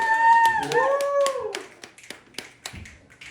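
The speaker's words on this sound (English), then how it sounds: "Give it up for Tony" Scattered hand claps from a small group at a live performance at Soupcon in Lambertville follow a shout with a long held vocal tone, the claps thinning out into a few sharp taps.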